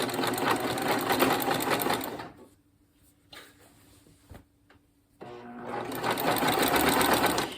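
A sewing machine fitted with a walking foot stitches the top edges of fabric together, running loudly in a fast steady whir, pausing for about three seconds with faint handling clicks, then starting up again.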